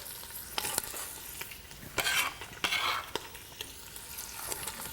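Onion and green pepper tipped into browned beef in a pot for Mexican bean soup. They sizzle steadily and close by, with a few louder hissing bursts as the vegetables hit the fat, and a spoon clicks and stirs throughout.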